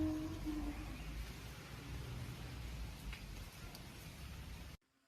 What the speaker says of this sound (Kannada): ಎವ್ರಿ 10 ಮಿನಿಟ್ಸ್ಗೂ ಮಳೆ ಬೀಳುತ್ತೆ, ಕಮ್ಮಿ ಆಗುತ್ತೆ